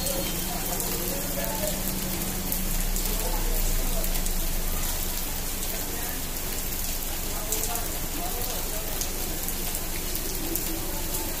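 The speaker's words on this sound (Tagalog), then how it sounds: "Ulan." Rain falls steadily in a continuous hiss with drops pattering on a surface, close and constant, with faint voices now and then beneath it.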